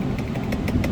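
A car engine idling while it warms up before an engine wash at a dealership detail shop, a steady, even mid-level hum with faint regular pulses and no revving.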